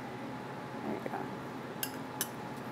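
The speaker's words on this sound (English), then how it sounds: "Stir it all together." A spoon scrapes and clinks against a bowl of hot rice mixed with chopped cilantro, a few quiet taps and stirs close by with no voice.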